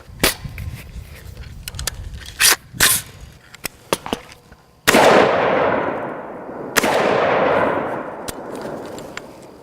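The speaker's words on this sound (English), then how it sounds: "That sounds like an absolute cannon going off whenever you shoot this thing." AR pistol firing FMJ rounds outdoors, two very loud, sharp blasts with long booming echoes trailing off, preceded by scattered handling clicks and knocks.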